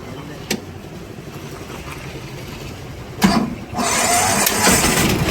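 A motorbike engine cranks and catches after a couple of clicks, then settles into a loud steady idle close by.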